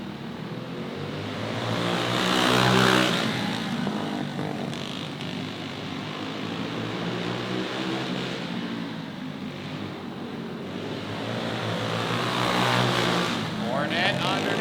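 Racing karts accelerating at the Texas Kart Nationals, several buzzing engines that rise and fade as they pass at a distance, with an announcer talking throughout.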